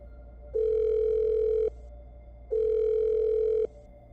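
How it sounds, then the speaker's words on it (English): A phone ringback tone sounds twice, each a steady electronic tone about a second long separated by a short pause, clear and alone. "she picked up her phone to call Sarah. The first ring"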